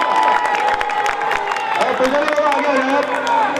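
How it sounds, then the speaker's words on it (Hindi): A crowd at an outdoor rally claps and cheers for Dr. B.D. Kalla, a dense, loud mix of applause and shouting voices with people talking over it throughout. "डॉक्टर बीटी कल्ला साहब के लिए भी जोरदार तालियां बजा दें"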